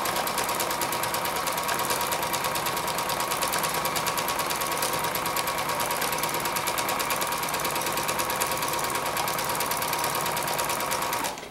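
A sewing machine stitching free motion quilting on an autumn quilt top, a fast, even needle clatter running nonstop and close by before stopping abruptly at the end.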